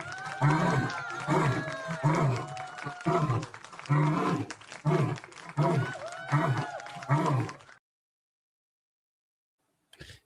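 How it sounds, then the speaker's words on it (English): Lions roar in a repeated series of deep, rumbling calls with short gaps between them, loud and close, then the sound cuts to silence before a brief final burst. "Let me hear my lions roar real quick."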